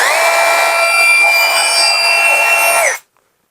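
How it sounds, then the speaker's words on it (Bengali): A Total 42V cordless brushless rotary hammer runs in drill mode with a loud, steady high-pitched motor whine for about three seconds, then stops abruptly into silence. "এটি ড্রিল মোডে ইউজ করা হয়েছে,"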